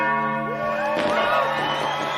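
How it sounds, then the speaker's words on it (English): Church bells ring in the new year of 1968, a dense peal of sustained, overlapping tones that swells and shifts partway through, with faint crowd noise beneath. "So the bells ring in the new year of 1968"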